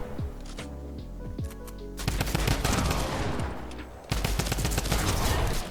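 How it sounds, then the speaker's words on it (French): Rapid automatic gunfire from a practice bot in Fortnite, first a few scattered shots, then two dense sustained bursts of loud, sharp, fast-repeating reports with game effects in between; no talking. "c'est un bot qui vous spam et il faut tirer au bon moment avant de vous prendre les balles"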